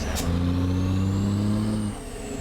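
A truck engine in American Truck Simulator drones with a steady low rumble, holding for about two seconds before dropping off into quieter idle, close and alone without talk.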